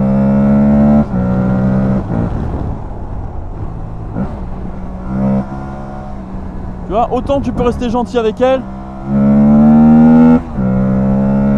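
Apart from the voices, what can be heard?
Aprilia Tuareg 660 motorcycle engine revving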